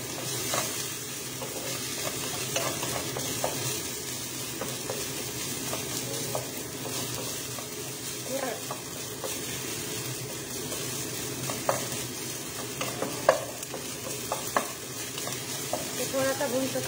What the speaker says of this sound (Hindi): थोड़ा सा भून लो इसको।